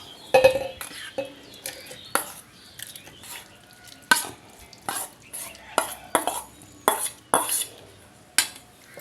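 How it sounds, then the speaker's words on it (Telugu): Soaked wheat semolina is scooped into a mixer jar with a spoon, giving a string of sharp, close clinks and scrapes against the jar at irregular intervals with quiet gaps between them and no talking. "దీన్ని మిక్సీ జార్ తీసుకొని మిక్సీ జార్లో వేసేసుకుందాం"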